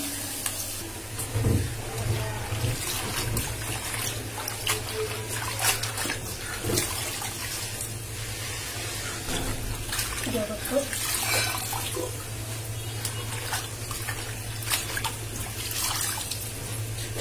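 Tap water runs steadily while cut leafy greens (shak) are washed, making a continuous broad rush with small splashes, and a voice is faintly present underneath.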